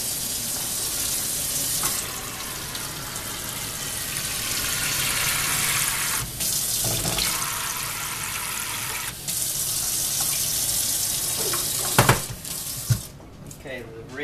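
Cold tap water runs steadily into a container as water is readied for New York style pizza dough, a continuous close rushing flow lasting throughout, with brief clunks near the end as it stops.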